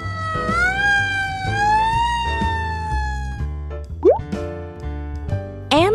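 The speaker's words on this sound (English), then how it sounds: "Roy is a fire engine." Cartoon fire engine siren from a children's animated show, a bright rising and falling electronic wail over background music, followed by short upward sweeping chirps.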